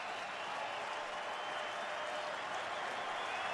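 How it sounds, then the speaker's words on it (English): A Dodgers home crowd at a baseball game against the Rockies roars and applauds in a steady, dense wash of noise heard from a distance, with no clear voices on top. "Right now, they're cheering with their hearts."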